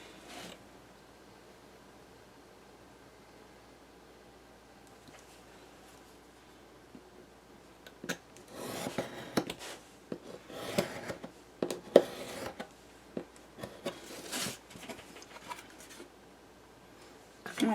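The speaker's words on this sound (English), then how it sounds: "we're just going to cut on our lines for our hectagon" Paper being cut along drawn lines to trim out a hexagon piece for a summer windmill craft, a run of crisp, close snipping and rustling bursts that starts after a quiet stretch and comes in uneven clusters.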